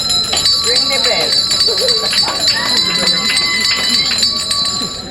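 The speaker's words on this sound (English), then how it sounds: "Ring the bell." A bell rings out at an outdoor groundbreaking ceremony for the Port Antonio Bypass in Portland, Jamaica, its sustained high tones steady over a continuous murmur of crowd voices and talk.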